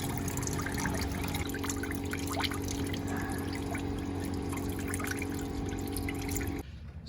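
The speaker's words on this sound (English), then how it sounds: "all the coolant or the tap water now that's left over in the engine will come out" Coolant mixed with tap water drains steadily from a Toyota Corolla engine, a continuous close trickle and pour that runs for several seconds before stopping abruptly.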